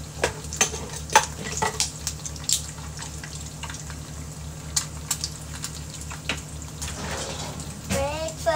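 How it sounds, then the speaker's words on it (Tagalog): Two eggs frying in a pan for breakfast, a continuous sizzle under a low hum, with intermittent clicks and taps of a utensil and a brief voice near the end. "Yan, luto tayo ng itlog."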